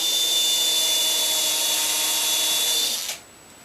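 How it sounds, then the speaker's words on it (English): A power drill fitted with a tapered countersink bit whines steadily at high speed while boring into bookcase wood, then winds down and stops abruptly after about three seconds. "I like using these tapered bits with a countersink"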